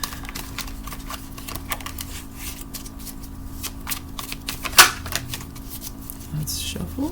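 Tarot cards are shuffled close by in quick, continuous riffling and slapping bursts, broken by one brief sharp snap near the end.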